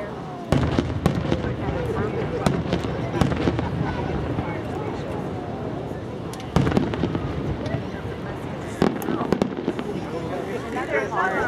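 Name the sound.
fireworks exploding at a fireworks festival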